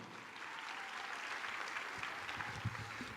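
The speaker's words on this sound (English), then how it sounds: "Give all those guys a nice big round of applause" Scholarship recipients at a dance convention receive steady crowd applause, a faint, continuous patter of many hands clapping from a distance.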